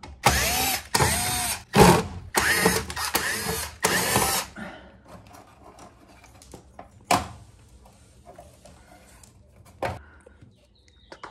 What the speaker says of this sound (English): We're gonna remove this panel right here, held in by 5 screws.